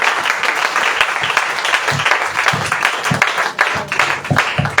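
A church congregation applauds to acclaim the Lord, a steady, loud wash of many hands clapping with scattered stronger claps and faint voices in the crowd, continuing throughout.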